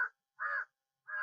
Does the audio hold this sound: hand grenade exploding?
no